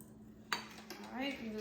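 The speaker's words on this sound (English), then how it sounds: "I'm going to plop that in and give it a mix" A spoon clinks against a bowl while dessert ingredients for a bonbon dessert are mixed, a few quiet scrapes and taps at close range with a faint hum behind.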